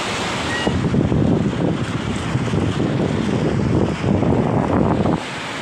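Surf at Patong Beach in Phuket, Thailand, washing in as a steady, loud roar of breaking waves with continuous wind buffeting the microphone, no voices over it.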